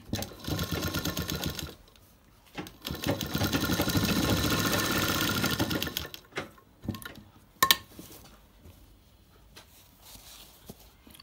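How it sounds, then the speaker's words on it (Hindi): A sewing machine stitching a pad into a blouse runs in two sustained whirring stretches, the second longer and steadier, followed by scattered clicks, fabric handling and a sharp knock, with no talking. "और इस तरह से आप पैड पर राउंड सिलाई लगा सकते हैं।"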